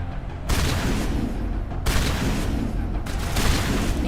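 Heavy, continuous gunfire in Mass Effect, dense loud bursts running almost without pause, with sharp jumps in intensity as new volleys start.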